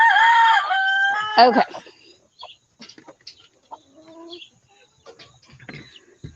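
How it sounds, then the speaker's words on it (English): Farm chickens: a loud rooster crow opens, then scattered soft clucks and short calls follow nearby, with a brief spoken word in between. "So those are the chickens in chicken jail"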